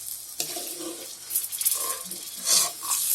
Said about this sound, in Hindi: ये गर्म पानी हमने इसे ले रखा था, अब इसमें डाल देंगे।